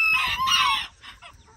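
An Old English Game bantam rooster gives a loud, close crow, which trails off into a few softer clucks.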